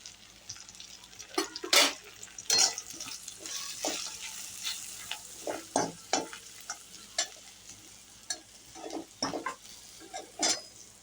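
Poha tempering with turmeric, peanuts, coriander and salt stirred in a hot pan: a soft sizzle runs under repeated close scrapes and clinks of a spoon on the pan, heard alone.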